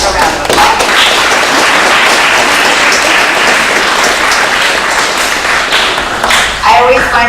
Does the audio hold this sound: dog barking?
no